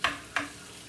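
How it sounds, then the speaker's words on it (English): Dry pasta goes into a pot of boiling water on a home stove, giving two quick splashy rushes over a steady bubbling simmer. "So the water's boiling. I'm going to put the pasta in there."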